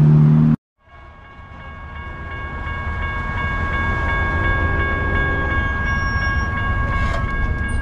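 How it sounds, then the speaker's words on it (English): A freight train approaches with a steady, building rumble and clatter of rail cars, a long tonal hum running throughout. "perfect timing now with the approach of this freight train"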